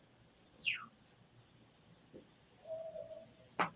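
A pet bird gives a few short calls indoors: a sharp descending chirp, a brief whistled note, then a loud abrupt squawk at the end, each separated by quiet room tone.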